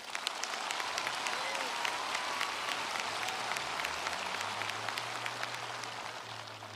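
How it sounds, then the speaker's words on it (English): Steady audience applause fills a college commencement hall, a dense sustained patter of many hands clapping at moderate distance for the whole stretch. "Please now, round of applause."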